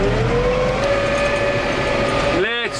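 A tractor engine hauling hay bales drones loudly and steadily as it pulls away in gear, its pitch climbing slightly as it gathers speed.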